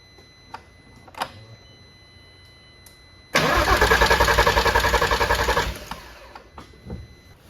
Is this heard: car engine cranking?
yes